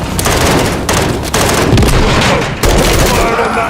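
Automatic gunfire rattles at an enemy helicopter in the video game Modern Warfare 3, loud continuous bursts broken by a few short gaps, with heavy impacts in the mix.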